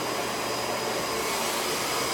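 Miele Cat Dog U1 upright vacuum cleaner running steadily, a loud, continuous broadband whoosh with a faint high whine, close up with no talking.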